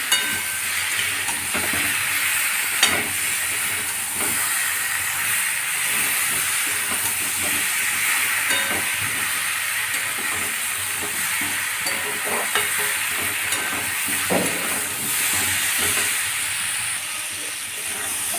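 Potatoes for alur dom being stir-fried in a pan, a continuous hissing sizzle with repeated scraping and knocking from a spatula against the pan, close and fairly loud throughout.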